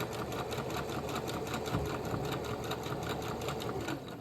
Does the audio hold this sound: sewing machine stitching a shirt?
yes